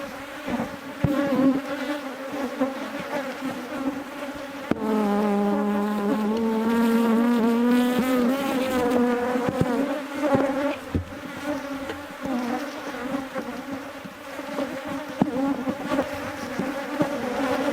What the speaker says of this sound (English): A lot of bees on the microphone right now.